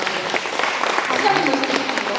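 An audience claps at a Hungeul culture city talk concert in Sejong, a short burst of steady applause filling the hall while a host's voice carries over it.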